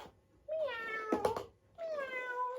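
A voice playfully imitates two cats meowing in a children's sensory farmyard story: two drawn-out, rising-and-falling meows, close and clear, separated by a brief rustling break.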